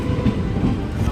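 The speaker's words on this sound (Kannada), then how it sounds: "ಇನ್ನೇ ನಮ್ಮ ಟ್ರೈನ್ ಬಂತು" A passenger train runs close by, a steady broadband rumble of rolling wagons with a faint rhythmic wheel clatter and no voices.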